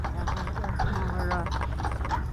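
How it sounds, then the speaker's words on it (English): Hooves of small horses pulling a wagon at a Christmas parade clip-clop in a steady rhythm at moderate distance, with people talking nearby. "They're doing the horse-drawn wagon."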